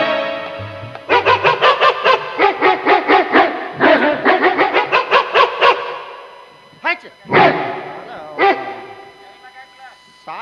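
A black dog barks in a rapid run of loud, evenly spaced yaps close by, pauses, then gives a few more scattered barks.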